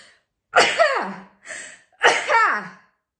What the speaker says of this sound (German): Immer niesen ist eine Energiefreisetzung